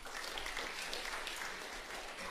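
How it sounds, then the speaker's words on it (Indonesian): Steady applause from a church congregation during a sermon, a dense continuous patter of clapping lasting a couple of seconds with no voices on top. "Tepuk tangan buat Allah kita."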